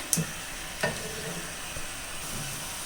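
Spice powders sauté quietly in a pan for egg biryani, a soft low sizzle broken by a couple of sharp spoon taps and scrapes.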